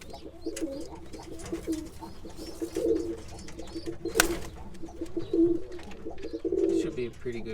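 Roller pigeons in a breeding loft, giving soft repeated low cooing calls close by, with faint rustling and a brief sharp knock in the background.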